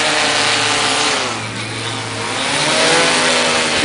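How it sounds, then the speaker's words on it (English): Motors of a waterproof quadcopter with a 5000mAh battery whine loudly and steadily in flight, dipping slightly in pitch and level mid-way as they slow, then swelling back up; no voices. "You can hear the motors decelerate and want to stay at it"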